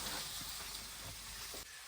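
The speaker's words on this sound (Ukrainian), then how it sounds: "А поки смажиться наша рибка" Steady, soft sizzling of carp frying in a pan, a constant hiss with small crackles throughout.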